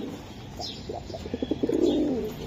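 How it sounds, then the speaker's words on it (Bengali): Racing pigeons cooing close by, a run of soft pulsing coos building into a longer throaty coo, with faint chirps above. "এই একটা কালদম কবুতর আমি দেখাই দিলাম"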